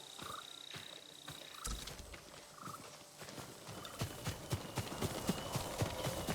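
In Ghost of Tsushima, a horse's hooves clip-clop at a walking pace, soft and fairly distant at first, then growing louder and more regular, with outdoor ambience and insect chirps behind.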